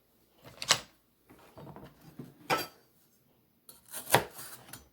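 A knife slices celery on a board in a few separate crisp, close cuts, each a short crunchy scrape, spaced out with quiet gaps between strokes.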